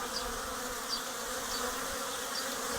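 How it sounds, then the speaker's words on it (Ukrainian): Steady, dense buzzing of many bees flying nearby in warm weather, a continuous drone with no pauses and no voices. "Досить масово бджоли літають при такій ну, достатньо теплій погоді"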